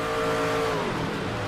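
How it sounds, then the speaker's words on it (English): An iRacing race car in an eNASCAR College series event at Michigan drones loudly and steadily mid-corner, its engine note sagging and dropping pitch partway through as the clutch comes in to scrub speed. "you hear that where it comes off right in the center of the corner where Falkingham is hitting the clutch to lose speed on that race car"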